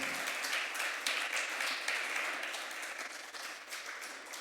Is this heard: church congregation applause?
yes